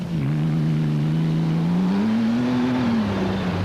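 A Kopenong Jimco off-road race car runs during a desert race, its engine holding a loud, steady drone that rises slightly in pitch midway and then settles, close and continuous with no talk.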